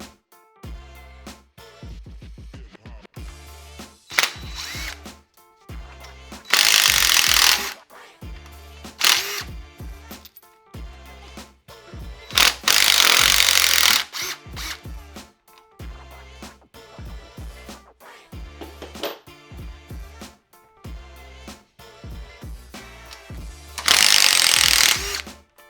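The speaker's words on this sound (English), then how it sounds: "Now we have to remove these 4 Allen bolts." Power tool taking out four Allen bolts on a vehicle build, heard as short whirring and clicking bursts mixed with several loud, longer spinning runs separated by pauses, close by with no talk.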